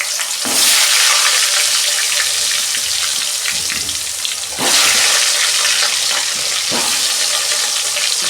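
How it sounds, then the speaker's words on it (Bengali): Potatoes seasoned with salt and turmeric hit hot oil in a pan with a loud burst of sizzling. The steady hiss carries on, rises again when more potatoes go in, and has a few stirring knocks under it. Close, with no voices. "আলুগুলো তেলে দিয়ে দিচ্ছি।"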